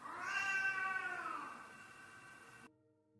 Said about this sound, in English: Let's go ahead and meow.